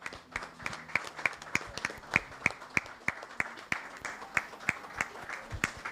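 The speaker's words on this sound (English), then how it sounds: "give him another big round of applause" An audience at a Culturama 50 celebration applauds in a standing ovation, with dense, steady clapping punctuated by sharp, prominent claps, sustained for several seconds with no talking.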